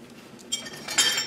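A kitchen knife clinks against dishes in a home kitchen during meal prep, with a couple of quick, close metallic chinks rising out of quiet background.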